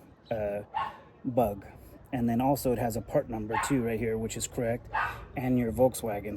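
A dog barking, yipping and whining to be let outside, the short cries mixed in under someone talking steadily nearby.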